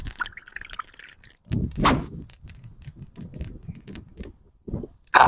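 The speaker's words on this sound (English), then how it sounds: "So I'm going to drink some of my coconut water first." Someone drinking coconut water outdoors at a park on Oahu, Hawaii: a series of irregular close wet sips and swallows separated by brief quiet gaps.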